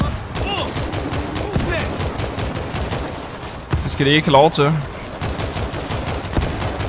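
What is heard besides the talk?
gunfire in the video game World War Z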